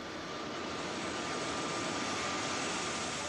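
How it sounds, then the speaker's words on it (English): A private jet's engines give a steady, loud roar with a broad rushing hiss and a faint high whine. The sound stays constant throughout, with no talking over it. "This is his private jet."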